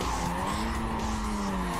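A Mazda RX-8 in the racing game NFS Carbon screams at high revs near 10,000 rpm, a steady loud engine whine with a faint tire-squeal edge running unbroken through the short stretch.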